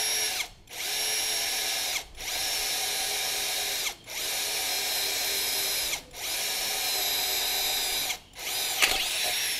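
A handheld power drill whirs in about five steady bursts of roughly two seconds each, separated by brief stops, loud and close with no voices.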